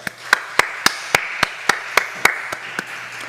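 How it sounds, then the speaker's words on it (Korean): A church congregation claps in a steady rhythm of about ten sharp, evenly spaced claps, fairly close and loud, at a Friday evening service with no talking. "하나님께 영광과 감사의 박수를 올려드리겠습니다."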